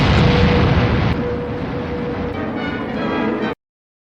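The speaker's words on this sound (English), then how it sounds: "Wernher von Braun and Walter Dornberger launched the first V-2 rocket at Peenemünde in northern Germany" V-2 rocket launching at Peenemünde in northern Germany, a loud continuous roaring blast with a thin whistling tone running through it, easing slightly before cutting off abruptly.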